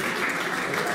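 Guests at a birthday party applaud. The clapping is dense and continuous but very brief, with a little voice mixed in.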